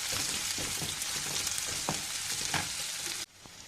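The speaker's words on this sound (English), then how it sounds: "While the onions are being fried" Onions fry in hot oil for sambar, a steady dense sizzle with a few sharper crackles, loud and close with no talk, ending abruptly in a quieter hiss.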